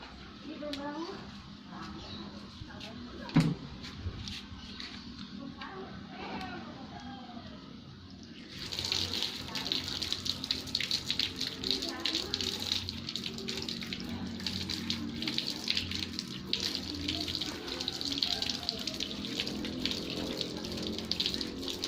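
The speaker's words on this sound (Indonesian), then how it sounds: "kita cuci tangan dulu" Tap water runs steadily as hands are washed at a sink in a classroom routine, beginning partway through as a continuous rushing hiss over faint background voices.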